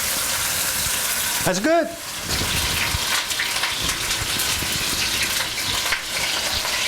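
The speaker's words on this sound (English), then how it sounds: "Now you're going to hear a lot of sizzling." A beef chuck roast sears in hot oil over high heat, giving a steady, loud, close sizzle and crackle throughout, with a brief voice speaking near the start.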